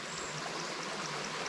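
A creek rushes and burbles in a steady, dense wash of flowing water, close and continuous with no pauses and no voices.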